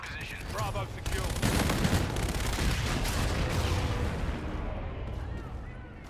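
Sustained gunfire and rattling shots in a modern military video game, dense volleys over booming background noise as a drone is shot down, with voices talking over it.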